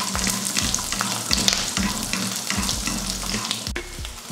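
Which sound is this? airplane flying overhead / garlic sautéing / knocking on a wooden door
garlic sautéing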